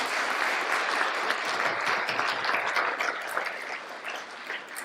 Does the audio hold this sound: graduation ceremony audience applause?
yes